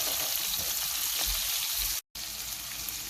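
Chopped onion frying in a pan for a vegetable sabzi stir fry, a steady close hiss and sizzle with faint crackles that cuts out briefly for a moment, then carries on.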